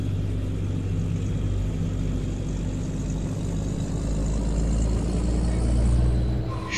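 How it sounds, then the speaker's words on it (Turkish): A Volvo FH16 540 truck engine in Euro Truck Simulator 2 drones with a steady, low rumble, swelling slightly toward the end, with no talking. "Arabanın sesini duyuyoruz tam."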